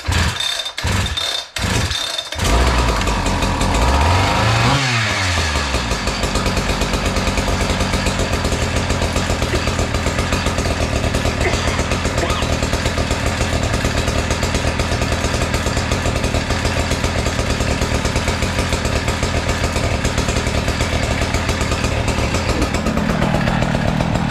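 A Husqvarna K970 cut-off saw, just serviced, fires up after a few pull-start tugs and settles into a loud, steady engine drone close by, with no talk over it.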